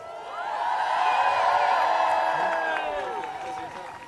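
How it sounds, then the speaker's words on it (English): A crowd at an outdoor pipeline protest near the White House claps and cheers, the noise swelling to a peak and then fading out, with whoops over the clapping. "One more time, a round of applause, ladies and gentlemen."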